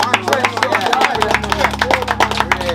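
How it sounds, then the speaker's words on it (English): A round of applause from a community gathering, dense overlapping hand claps in an irregular patter over a low steady hum, close and fairly loud. "give a round of applause again"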